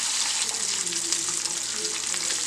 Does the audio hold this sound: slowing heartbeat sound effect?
no